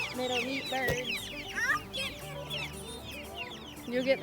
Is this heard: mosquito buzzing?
no